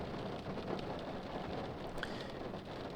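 Steady rain falls through a thunderstorm, a dense continuous hiss of drops with low rumbling underneath, fairly quiet and unbroken, with no voices.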